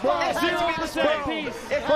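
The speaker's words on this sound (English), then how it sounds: "Crowd going crazy." An esports crowd at the Super Smash Bros. Melee finals roars and whoops loudly, many overlapping voices shouting and cheering in a dense, continuous wave.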